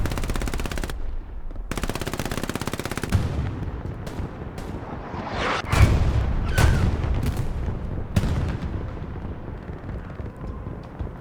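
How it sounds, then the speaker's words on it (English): Katyusha rocket launchers fire in a battle video game, with rapid loud bursts of launches and booming impacts rolling over one another in a dense, continuous barrage. "Once again, Katuska rockets going off."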